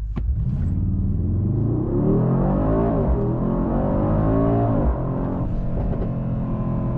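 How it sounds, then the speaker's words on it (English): The deep V8 of a 2024 Mercedes-AMG GLE 63 S SUV roars as it accelerates hard toward 100 km/h, pitch climbing through gear changes, loud and close from inside the car. "So let's try the acceleration to 100 km/h."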